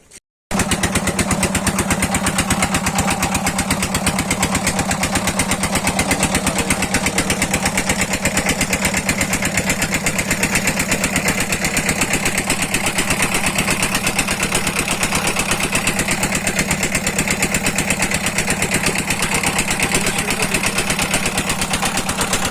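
A motorboat engine runs steadily and closely with a fast, even putter that stays constant after a brief start, with no other sounds.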